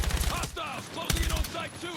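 Rapid automatic gunfire in Battlefield 6 sounds in two short bursts of quick, punchy shots, close and loud, with voices shouting over the action.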